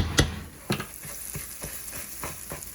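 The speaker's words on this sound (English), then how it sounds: "I should turn it up a little bit and get a little more sizzling going." Steady sizzling of rice noodles frying in a hot pan for tofu pad thai, with several sharp clatters of stirring spaced through it, close and moderately loud.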